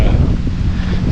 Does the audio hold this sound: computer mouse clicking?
no